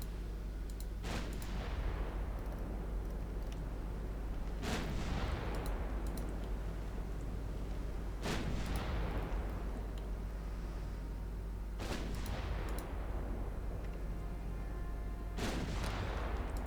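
Heavy warship gun turrets firing in Ultimate Admiral Dreadnoughts, four loud booming salvos at roughly even intervals of about three to four seconds, each decaying into a long rumble over a constant low engine drone.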